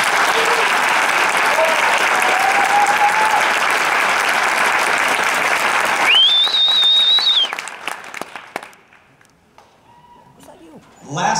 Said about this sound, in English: we need a slightly larger applause, like you're really getting into something